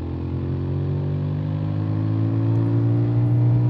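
Yamaha Tracer 7 motorcycle engine running steadily while riding, a continuous low droning hum with even pitch, close and unbroken, with no voices.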